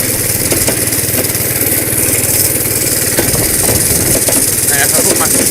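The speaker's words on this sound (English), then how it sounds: "This is just idling, really." The Honda kart's small engine idles loudly and close, a steady rumbling putter with some faint talk mixed in under it.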